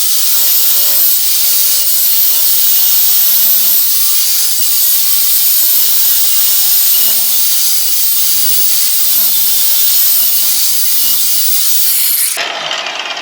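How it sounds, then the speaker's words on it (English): An angle grinder grinding down a metal exhaust cutout, a loud, harsh, continuous high-pitched grinding roar held close for most of the stretch, then cutting off abruptly near the end. "Still gotta grind down a little more"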